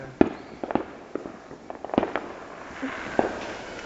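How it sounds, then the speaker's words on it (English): Fireworks and firecrackers pop and crack in scattered bursts of varying loudness, some sharp and near, others softer and distant, heard outdoors from a backyard at night. "fireworks."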